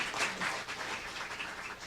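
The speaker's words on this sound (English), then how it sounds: "I need your great applaud for our excellent panelists" An audience applauds panelists at a trilateral Korea-US-China conference session, steady clapping that fills the short stretch at a faint level with no talk over it.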